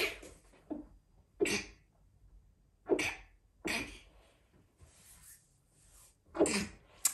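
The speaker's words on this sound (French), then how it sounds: "Excusez-moi, je vais éternuer." Several sharp sneezes burst out one after another, loud and close, separated by quiet pauses with faint breathing between them.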